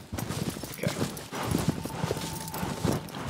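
Horse hooves clip-clop at a steady walking rhythm in the video game Shadow of the Colossus, close and moderately loud over a continuous game soundscape.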